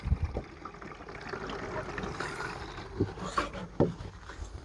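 Water poured into a container to dilute a biological preparation up to 10 liters for treating beehives, heard as close, faint splashing and trickling with a few sharper gurgles.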